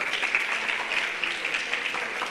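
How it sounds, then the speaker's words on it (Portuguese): An audience at a teen event applauds continuously, a bright, even spatter of many hands clapping at moderate level, with no voices over it. "uma salva de palmas"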